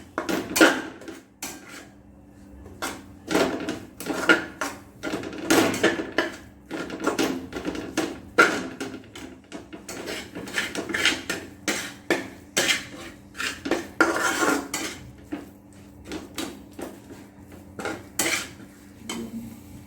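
Spoon scraping and clanking against a pan as spices such as garam masala and coriander powder are mixed into egg kothu chapathi, a rapid irregular run of close metallic knocks lasting the whole stretch, no talking.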